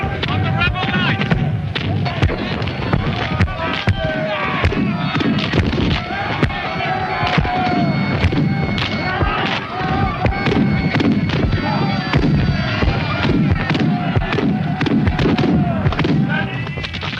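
Battlefield cannon at the Battle of Culloden fire in a string of heavy booms and thuds, near and loud, with a voice talking over the barrage.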